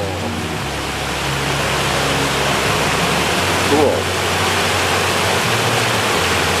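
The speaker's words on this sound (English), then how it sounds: "But that waterfall, oh," A waterfall on a Thanksgiving road trip near Mount Marcy gives a steady, broadband rush that fills the whole clip alongside wind, with a brief voice speaking partway through.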